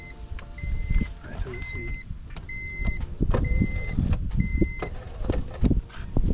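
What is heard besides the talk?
faulty Honda Civic power window going up and down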